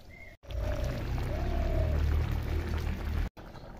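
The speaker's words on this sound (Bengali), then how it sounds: "ইঁচড়ে এখন জল দেবো" Hot water pours steadily into a pot of jackfruit curry, a continuous close splashing rush lasting about three seconds, with faint clinks at the start.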